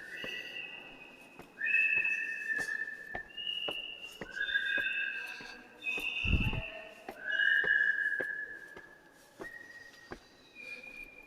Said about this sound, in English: Outside there is someone who sells whistles,